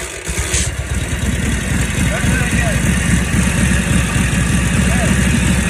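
A 1942 Harley-Davidson WLC 45 military motorcycle engine runs steadily up close, with a loud, continuous low-pitched rumble and rapid firing pulses throughout.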